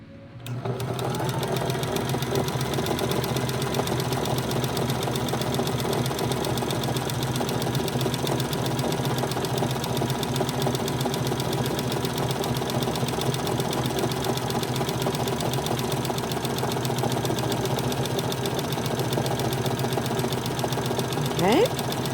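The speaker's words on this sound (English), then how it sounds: "So don't backstitch. You're just gonna sew." A sewing machine stitching a sweatshirt seam: a steady, close mechanical hum with rapid, even needle chatter running almost without pause. A voice talks over it.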